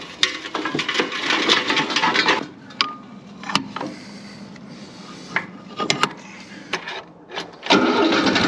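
Tractor engine starting outdoors, a rough cranking and sputtering churn with irregular knocks and rattles, followed by the engine catching and running louder near the end.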